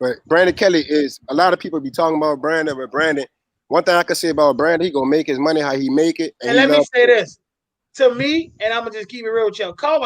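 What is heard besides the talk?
No distinct noise like a dog, phone or traffic.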